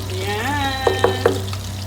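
Garlic and onion sauté for ginisang ampalaya with a steady sizzle, broken by a few sharp scrapes of stirring, while a person speaks over the frying.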